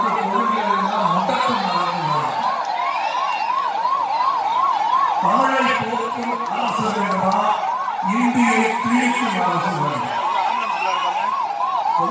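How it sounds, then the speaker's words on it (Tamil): An ambulance siren wails steadily in a rapid, repeating rise-and-fall pattern while trying to pass through a dense election campaign crowd, with crowd noise and children's shouts mixed in throughout. "அப்போது நோயாளியுடன் வந்த ஆம்புலன்ஸ் கூட்டத்தை கடந்து செல்ல முடியாமல் கடும் சிரமம் ஏற்பட்டது"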